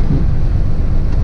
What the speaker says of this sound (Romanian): Dar nu că plouă, dar bate și vântul.